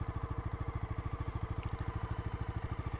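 Bajaj Dominar 250 motorcycle engine running after a push of the ignition button, a steady low rhythmic thumping idle, close and continuous.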